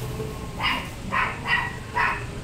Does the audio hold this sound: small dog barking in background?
yes